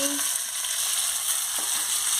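Chopped onion, green chili and tomato frying in a pan for a spicy sea-fish curry: a loud, close, continuous sizzle and crackle with a faint scrape of stirring.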